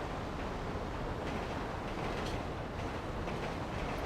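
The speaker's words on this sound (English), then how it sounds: "Here comes that damn train again." A train rumbles past in the FiveM video game with a continuous low, rushing roar and faint rhythmic clatter, steady and moderately quiet throughout.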